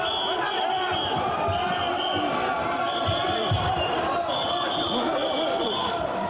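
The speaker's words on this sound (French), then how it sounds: "elle s'avance sous les huées et très vite sous les lancers d'eau" A hostile crowd at a Marine Le Pen campaign appearance in Réunion during the 2012 presidential race boos continuously, with sharp whistles cutting through the dense jeering and a voice talking over the din.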